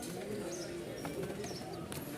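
A pair of Giribaz pigeons coo softly among other birds, low repeated burbles with a few faint chirps over a steady murmur of background noise.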